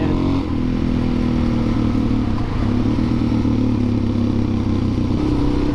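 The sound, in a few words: Honda CRF250L Rally motorcycle engine running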